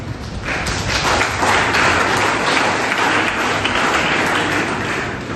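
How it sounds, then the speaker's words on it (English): An audience at an International Workers' Day tribute gives a round of applause, a dense, loud, sustained wash of clapping close by that swells and then gently eases near the end. "let's give a huge round of applause once again for them"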